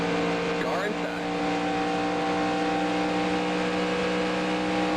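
Race car engines in NASCAR Racing 2003 during a 1992 Winston Cup race at Michigan, a steady high droning whine of cars running alongside, continuous and close, with brief talk over it.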